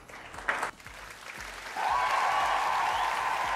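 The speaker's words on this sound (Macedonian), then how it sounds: "Не, како да не дадеме еден аплауз." Applause at a fashion studio show: scattered claps at first, then swelling from about 1.8 s into a steady, dense round of clapping held to the end, with a faint tonal hum running beneath it.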